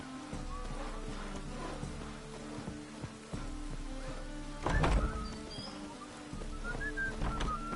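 Rain falling in The Witcher video game, a soft continuous patter under game music and faint bird-like whistles, with a brief louder thud midway.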